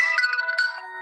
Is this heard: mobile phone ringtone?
yes